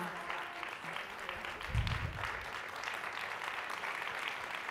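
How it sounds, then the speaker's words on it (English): Audience applause fills the room for a panel of women at a sports leadership summit, a steady wash of clapping at moderate distance with a brief low thump partway through. "I think we need to give them a round of applause"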